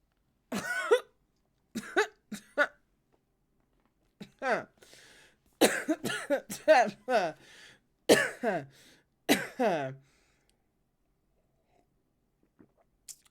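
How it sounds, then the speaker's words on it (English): Several bursts of coughing and throat clearing, close and fairly loud, in irregular clusters separated by silence. "That was not an asthmatic cough."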